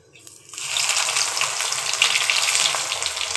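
Egg cutlets drop into hot oil after a brief quiet start, and a loud, close sizzle swells up and holds steady with bubbling crackle, with no talking.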